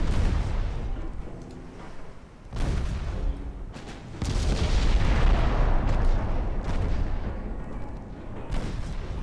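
Warship naval guns in a video game fire high explosive shells, with heavy booms and rolling, rumbling blasts that overlap into a continuous roar of gunfire.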